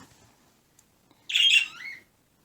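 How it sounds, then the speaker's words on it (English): Pet birds at home give one short burst of bright chirping, close by and alone after a near-silent stretch. "The birds are going to give a running commentary about that."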